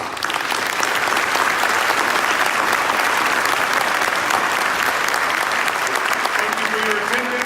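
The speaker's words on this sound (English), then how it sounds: "that alone deserves a round of applause" A crowd at an Atlanta police recognition ceremony honoring courage and bravery breaks into dense, loud applause that holds steady throughout, with a faint voice near the end.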